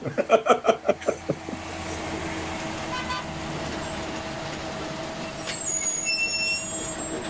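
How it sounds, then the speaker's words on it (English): A bus pulling up outside: a series of beeping tones, then a steady engine rumble and the hiss of air brakes, heard from a short distance without talk. "I hear the bus has just pulled up outside"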